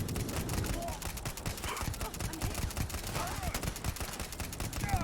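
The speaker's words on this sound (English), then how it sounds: "Granny and Sarah decide to go in guns a-blazing." Sustained gunfire in a sci-fi video game firefight in Starfield, dense overlapping rapid shots and automatic bursts running continuously, loud and busy throughout.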